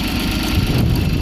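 A 1988 John Deere 322 garden tractor's gasoline engine runs close to the microphone, a loud, steady, throbbing low drone with no pauses.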